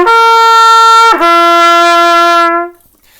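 A trumpet sustains a bright, loud middle G, then slurs up to a high C, holds it for over a second and fades out, played alone.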